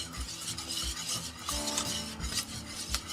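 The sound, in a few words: stirring vegan chocolate spread mixture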